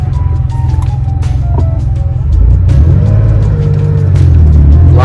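A Porsche 915 car engine warms up, giving a deep, steady rumble close by that grows heavier and louder partway through as the revs rise and hold.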